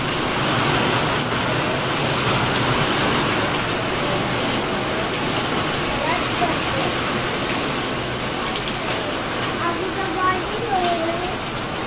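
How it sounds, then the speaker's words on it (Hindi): Heavy rain pours steadily outside a home, a dense, continuous roar of drops on surfaces that stays loud and even throughout, with a voice speaking faintly over it. "हाँ बेटा बहुत तेज बारिश हो रही है।"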